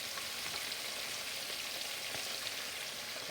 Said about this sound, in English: See how it's frying?